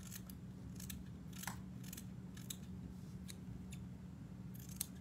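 Scissors trimming fibers on a Finesse Game Changer fishing fly held in a vise, a quick series of crisp, close snips at irregular intervals over a quiet background hum.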